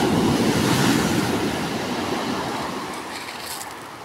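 Strong waves surge and crash during bad weather, a loud, continuous roaring wash that swells at the start and slowly eases off, with no voices.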